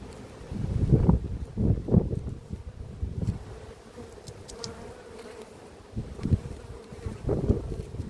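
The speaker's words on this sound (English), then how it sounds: "So there's a good lot of bees coming in here" Bees buzz busily around a hive entrance in an apiary, a close droning hum rising and falling in swells as individual bees pass near, with light wind and rustling behind.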